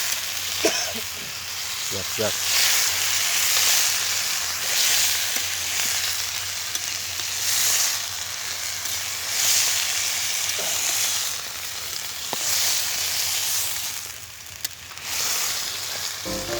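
Mixed winter vegetables sizzle in a hot pan while being stirred, a steady frying hiss swelling in waves with occasional scrapes and clinks of the spoon, and a voice speaks over it.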